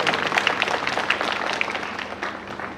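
An audience applauds to welcome priests at a church Silver Jubilee celebration, a steady, dense patter of many hands clapping at moderate loudness throughout.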